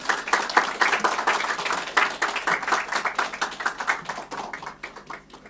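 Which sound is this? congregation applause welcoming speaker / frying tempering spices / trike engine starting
congregation applause welcoming speaker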